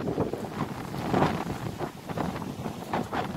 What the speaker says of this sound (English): I know this video is gonna be terrible with all this wind in the background.